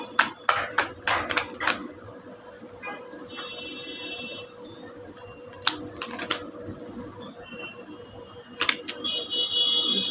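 Tarot cards are drawn from the bottom of the deck, giving a series of crisp, close snapping and flicking sounds in bursts with quieter shuffling between them.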